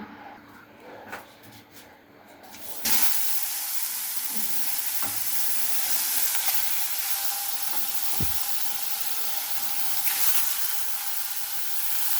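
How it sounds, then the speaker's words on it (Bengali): Pangas fish frying in a pan: after a few quiet knocks, a loud, dense sizzle bursts in and holds steady close by, with an occasional dull thump, no speech. "মাছটা এখন ভেজে নেব।"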